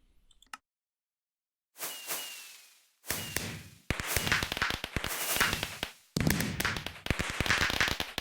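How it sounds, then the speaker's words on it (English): Video game fireworks go off in bursts: a lone pop, then whooshing launches and dense crackling explosions, close and loud, with brief silent gaps between volleys. "It's been a while since I've seen the fireworks."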